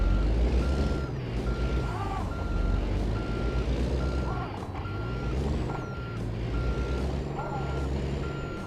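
A big rig backs up in American Truck Simulator, its reversing alarm beeping in a steady evenly spaced rhythm over a low idling diesel rumble, with a faint hiss of air brakes.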